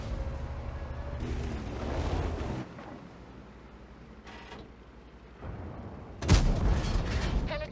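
A tank cannon fires in World of Tanks, a sharp loud boom with a broadband crack standing out near the end against rumbling engine and battle ambience.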